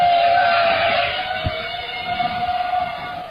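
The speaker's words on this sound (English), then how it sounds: "then you will hear the hum of drones in the sky" A drone hum fills the sky: a steady, droning tone over a broad mechanical rumble, loud at first and then easing slightly, with one brief low thump partway through.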